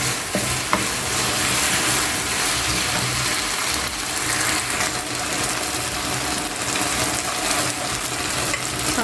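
Thai chicken stir fry cooking in a hot pan, a steady close sizzle and crackle of frying with occasional utensil scrapes and stirring, no voices.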